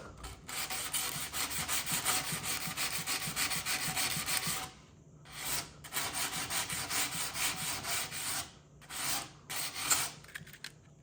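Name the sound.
sanding rust off a snowboard with 120 grit sandpaper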